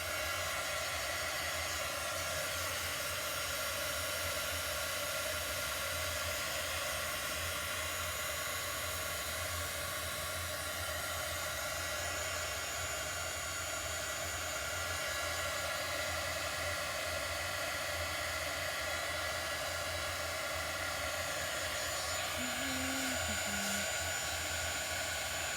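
A dryer blows steadily to dry brushed-on paint during a Chalk Couture craft project, a loud, close, continuous airy roar that holds unchanged from start to finish.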